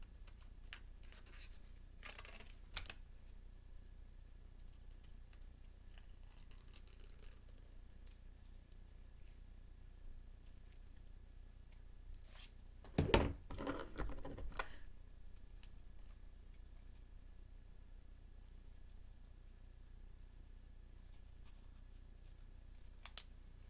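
Scissors cut out a paper heart shape for a handmade photo frame, a few quiet isolated snips early on, then a brief cluster of closer, louder crisp cuts midway, with near silence in between.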